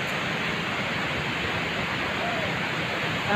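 A strong waterfall at Manipis roars as a continuous, dense rushing wash of water, loud and close, steady from start to finish.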